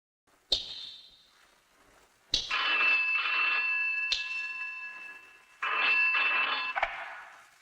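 An office telephone rings in a Hindi police-station drama scene, with a sharp electronic bell that sounds in three separated bursts with clicks between them, moderately close and alone without talk.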